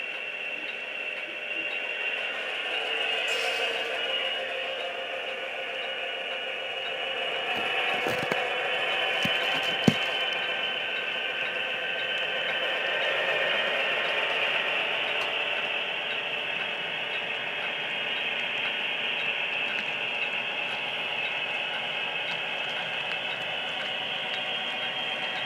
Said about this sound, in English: while this train's backing up